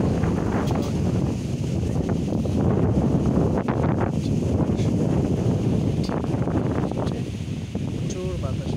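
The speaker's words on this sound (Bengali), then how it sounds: "প্রচুর বাতাস হচ্ছে।" Strong wind from Cyclone Remal buffets the microphone in a steady, loud, broadband roar that gusts throughout, with a voice talking faintly underneath.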